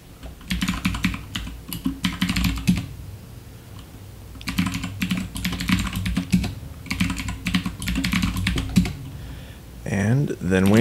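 Computer keyboard being typed on while entering a password during a Debian command-line install, producing bursts of rapid close key clicks separated by pauses, with a short spoken voice at the end.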